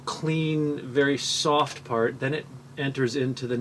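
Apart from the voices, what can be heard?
None of the usual background noises is heard.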